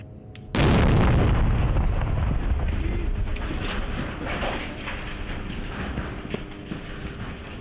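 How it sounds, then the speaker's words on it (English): A tunnel in Gaza is blown up with dynamite, one sudden deep boom followed by a long rumbling roar that slowly fades, with wind buffeting the microphone outdoors. "So the Israelis are about to detonate the tunnel we just saw."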